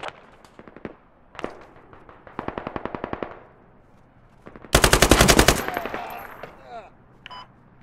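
Gunfire in the Squad military shooter video game: rapid machine-gun bursts and single shots, loud and close, building to a dense sustained volley, with brief voices between bursts.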